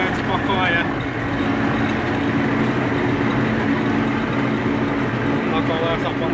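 An MTZ tractor engine runs steadily as it hauls along a muddy road with flooded potholes, a loud, continuous low drone filling the whole stretch while voices talk faintly over it.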